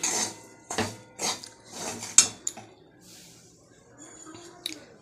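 A spoon scrapes and clinks against a pan while semolina is stirred, giving several separate metallic scrapes in an irregular rhythm, close and fairly loud, followed by softer clatter.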